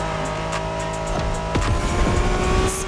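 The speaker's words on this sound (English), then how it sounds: "familiar with the Honda you're driving?" Honda NSX sports car from the 1990s driven in The Crew Motorfest racing game, its engine note rising and falling through gear shifts with a tire squeal and a brief passing whoosh, loud and close with no talk.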